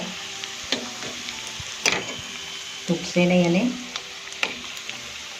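Maggi Manchurian balls frying in oil are gently turned, giving a continuous close sizzle broken by a few clicks and scrapes as a utensil moves them, while a person speaks over it.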